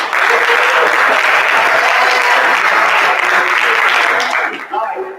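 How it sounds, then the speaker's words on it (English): A church congregation claps hands together in a loud, sustained burst that fills the sanctuary, with a few voices calling out underneath before the clapping thins at the end. "And I need y'all to clap your hands for that."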